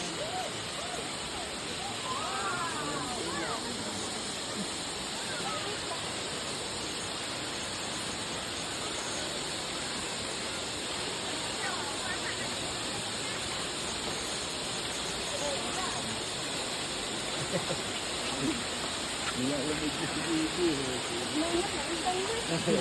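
Ulan Ulan Falls, a waterfall, pours out a steady broadband rush that holds nearly level and close throughout, with faint voices now and then beneath the continuous roar.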